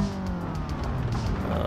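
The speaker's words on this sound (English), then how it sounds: "Oop, stalled it. Start it up again." Car engine in BeamNG.drive running steadily at close range after a restart from a stall, with a continuous drone and rising tonal harmonics over road noise.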